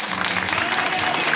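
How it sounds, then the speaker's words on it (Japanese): Audience at an amateur pro-wrestling event in Shiraishi gives a burst of loud, dense applause, with a voice audible beneath the clapping. "もう一度大きな拍手をお願いしたい"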